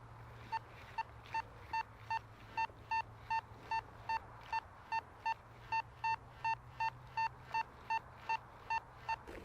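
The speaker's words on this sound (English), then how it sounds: "what a lovely audio tone this Nautilus gives" A Nautilus metal detector gives a clear electronic beep that repeats at a steady, quick pace over a low hum, each tone short and bright, with faint background hiss.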